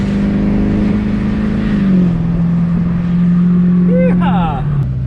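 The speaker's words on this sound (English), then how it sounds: "Windows down, straight pipe Duramax," A straight-piped Duramax diesel pickup engine pulling a gooseneck hay trailer in a field, droning loud and steady with a throaty rev that dips and settles, with a brief voice near the end.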